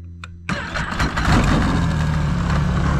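A Ski-Doo 900 ACE snowmobile engine fires up with a sudden catch and settles into a loud, steady idle heard up close, with no voices over it.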